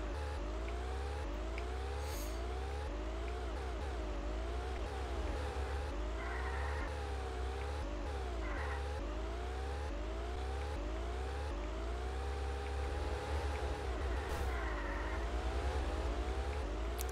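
A white race car's engine whines in the video game Ultimate Racing 2D, a steady close drone with pitch rising and falling as the car speeds up and slows, and faint tire squeals mixed in.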